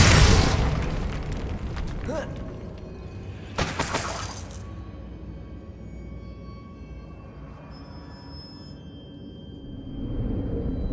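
A Confringo fire spell in Hogwarts Legacy goes off as a loud opening boom, followed by sharp shattering bursts. The blasts fade to a quiet, ringing ambience, then the level rises again toward the end.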